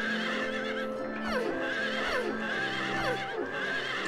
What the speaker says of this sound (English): Have to put those just default horse neighing sound effects.